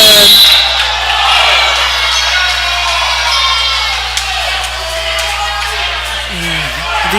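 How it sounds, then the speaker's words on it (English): A basketball crowd at a Grundy Center game voicing displeasure at a referee's call, a broad murmuring roar with scattered shouts and boos, loud and sustained throughout. "the Grundy Center crowd not pleased with the call"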